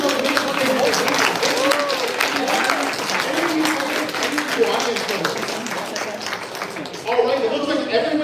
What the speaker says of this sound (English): can we give everyone who's playing from our round of applause?